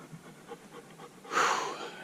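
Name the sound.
dog panting on a mountain hike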